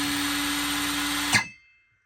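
A Parkside 20V cordless circular saw runs with a steady high whine, then its brake stops it almost instantly, leaving a short fading ring before silence.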